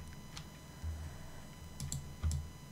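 Computer keyboard keys pressed for an Illustrator shortcut, a few soft clicks spaced across a couple of seconds, close and quiet over a faint steady hum.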